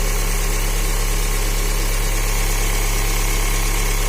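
A Fiat Uno with a 1.4 Evo Fire engine idles fully cold, a loud, steady, close hum with an even mechanical vibration throughout, and no voices.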